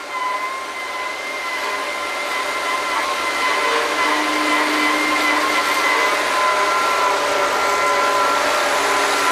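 A drilling rig mud pump on a well site runs with a loud, continuous mechanical whine and drone, steady tonal hums layered over broad noise that swells slightly after the start.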